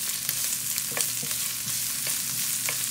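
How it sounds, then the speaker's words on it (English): Finely chopped onions sauté in a pan for picadillo, giving a continuous close sizzle with short clicks and scrapes from stirring throughout. "I'm going to saute this until it becomes translucent before I put my tomatoes"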